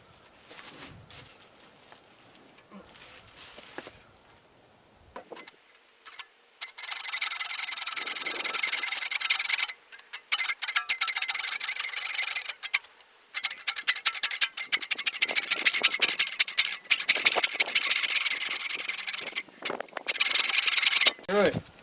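Steady back-and-forth rasping of a hand saw cutting through well pipe during a freeze repair, starting after a few quiet seconds and continuing in long, loud strokes with brief pauses.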